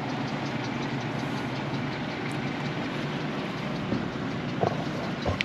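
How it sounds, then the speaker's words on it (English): A portable generator runs steadily as a continuous mid-level engine drone with a few faint clicks and knocks near the end, and no voices. "I'm going to start the generator back up"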